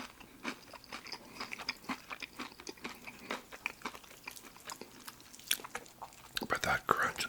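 Crunchy Lee's Famous Recipe fried chicken is bitten and chewed close up in a quiet room, a series of crisp crackling crunches with soft chewing between bites.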